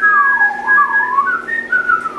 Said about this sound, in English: Stop flexing with your whistle.